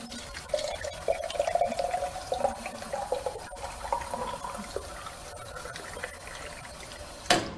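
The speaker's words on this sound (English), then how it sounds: "check the water fountain and see where you think that the water typically hits" Water from a drinking fountain streams into a bottle, a steady splashing and filling rush that continues for several seconds with a sharp knock near the end.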